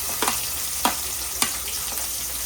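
Onions frying in oil in a pan give off a quiet, even sizzle, broken by a few sharp clicks from stirring at regular intervals.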